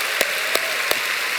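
Church congregation applauding at a Friday night worship service, a steady wash of crowd clapping filling the room with a few sharper individual claps standing out.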